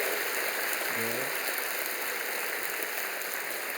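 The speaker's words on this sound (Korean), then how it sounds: "교우 여러분은 충심으로 큰 박수로 환영하시기를 바랍니다." Applause from a church congregation, a steady wash of clapping hands spread evenly across the room, moderately loud and continuous throughout.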